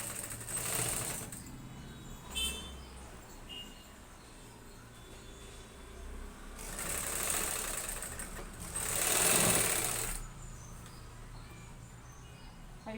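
Sewing machine stitching folded piping onto a blouse, a few short bursts of fast whirring stitching separated by quiet pauses, heard close and fairly faint with no talking.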